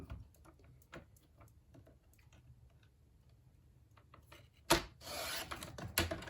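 Paper is trimmed for a junk journal library pocket, with faint scattered ticks and rubbing followed by a louder, brief rasping slide of the cut near the end.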